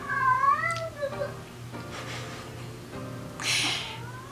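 Boo Bear, a pet cat, lets out a drawn-out, wavering meow up close, followed by a shorter cry and then a breathy hiss or snort, all over a low steady household hum.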